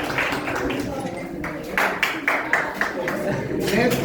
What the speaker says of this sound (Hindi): आप लोग की ताली बजाइए